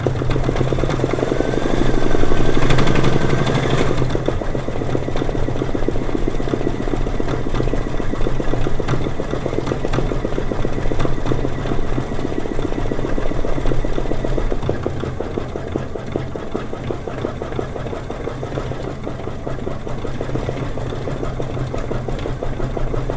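A sewing machine runs steadily as it stitches a small circle appliqué for a flower-themed lunch box quilt, a continuous mechanical hum close by with no talking.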